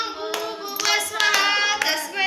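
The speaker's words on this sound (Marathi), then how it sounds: "हो हो तुम्ही टाळ्या वाजवा." People clap hands during a Jogwa ritual with chanting, a few sharp claps landing over a tonal, sung or chanted background that carries through the whole stretch.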